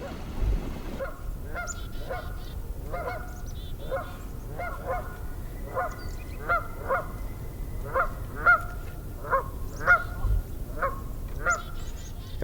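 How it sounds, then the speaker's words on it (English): Canada geese honk repeatedly in a lively, squabbling group on a frozen lake beside open outlet water, the calls coming in uneven bursts, fairly close and clear over a low steady background rumble. "Some Canada geese, and yeah, they were getting a little antsy, a little infighting there."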